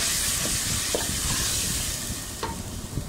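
Garlic and tomato paste fry in a pan with a steady, close hiss and sizzle, broken by a few soft clinks of stirring.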